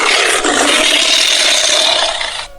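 A half-tiger creature roars loudly, a harsh, rasping, sustained blast that fills the whole clip at close range before cutting off abruptly near the end, with no speech.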